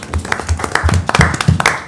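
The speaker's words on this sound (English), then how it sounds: "A smattering of applause." A brief smattering of applause comes from a small group at a municipal board meeting. It is a few seconds of uneven, moderately close hand claps, with no voices over them.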